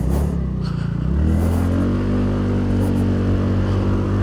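A 2024 TVS Ntorq 125 Race XP Edition scooter accelerating in race mode: a close, continuous engine drone that rises in pitch after a brief dip, with no talk.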